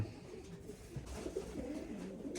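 Pigeons coo softly in a loft of fancy breeds such as Rakkas, Kıvırcık and Posta, low murmuring calls repeating under a quiet, steady background, with no speech.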